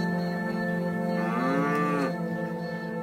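Cattle near a natural park in Botswana: a single drawn-out moo rises and falls over a steady background drone, moderately close and heard alone with no talk.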